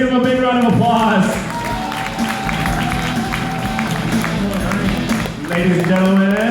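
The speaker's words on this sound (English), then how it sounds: "Let's give him a big round of applause." Audience applause at a Dell press conference at Computex 2017, a loud sustained burst of clapping from a crowd in a hall, heard under an amplified announcer's voice and music.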